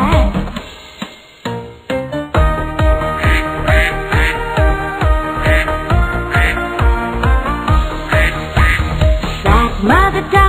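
A singing voice imitates a duck's quack in a bouncy children's nursery song about a mother duck, with the repeated quacks riding on top of steady, loud backing music.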